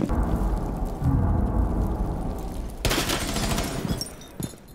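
Gunfire in the video game Rainbow Six Siege comes as a dense, rumbling barrage of shots, heavy and continuous, with a sharper cluster toward the end.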